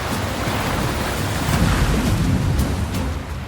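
Rushing river water roars as a continuous, loud, dense wash with no pauses, swelling slightly in the middle and easing off at the end.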